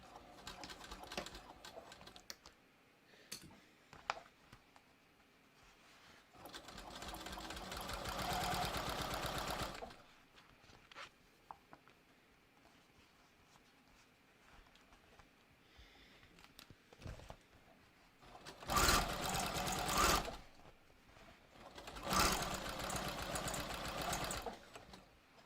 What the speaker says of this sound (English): I am just going to stitch.